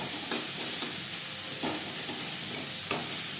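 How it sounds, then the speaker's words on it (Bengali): Onions frying in oil in a home kitchen pan, a steady close sizzle with a few scraping stirs, no talking. "পেঁয়াজ লালচে করে ভেজে নেব।"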